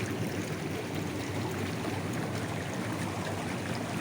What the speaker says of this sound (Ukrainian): вода через перелив уходить в баки